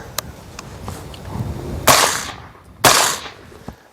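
Two sharp suppressed shots from an Aero Precision 11.3-inch AR-15 short-barreled rifle in 5.56, fired into dirt outdoors, each a loud crack about a second apart with a short decaying tail and quiet handling noise before them.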